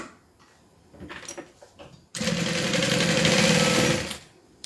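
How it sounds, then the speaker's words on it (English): After a few soft handling sounds, a sewing machine runs in one steady two-second burst, close and fairly loud, stitching fabric panels of a custom-made Kiana together, then stops. "Let's just give that a little stitch down."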